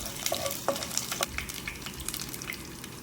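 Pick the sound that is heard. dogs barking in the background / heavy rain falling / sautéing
sautéing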